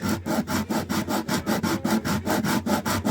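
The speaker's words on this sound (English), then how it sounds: "you'll see on the sandpaper where it's making contact and where it isn't" A wooden guitar bridge, for a Selmer/Maccaferri-style guitar, is rubbed back and forth on sandpaper in short strokes about an inch long, giving a steady, close, rhythmic scraping of roughly four strokes per second with no talking.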